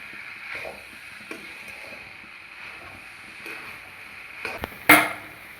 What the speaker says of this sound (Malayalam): എന്നിട്ട് ഇളക്കി കൊടുക്കുക.